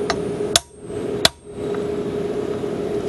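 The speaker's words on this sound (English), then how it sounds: "Now you want to use a steel hammer when you're tapping these things," A steel hammer taps a brass plate from a grandfather clock movement twice, sharp ringing metallic strikes about half a second apart against a faint background hum.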